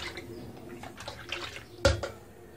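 A spoon stirring plum and tamarind sharbat with Rooh Afza essence, giving soft watery swishes and light sloshing, then a single sharper clink near the end. No talk.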